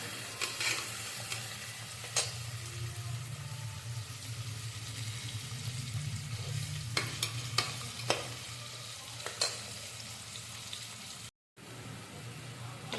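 Onions sauté in a pan for tomato rice, giving a steady close hiss over a low hum, broken by scattered sharp clicks of stirring across about thirteen seconds, with a brief dropout near the end.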